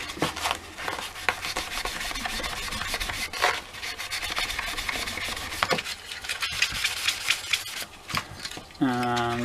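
The plastic shell of an old Sega Dreamcast controller gets buffed to remove scratches, producing close, continuous rubbing and scuffing with a few sharp clicks and handling knocks, ending in a brief tonal sound.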